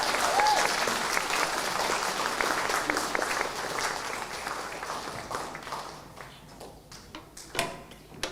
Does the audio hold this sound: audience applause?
yes